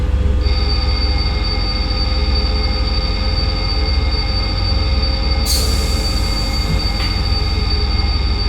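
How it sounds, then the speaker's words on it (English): A train in a train simulator video game braking under an emergency stop enforced by the ATB safety system, with a loud steady rumble, sustained wheel and brake squeal tones, and a sharp hiss burst near the end. "wait for the train to enforce emergency braking"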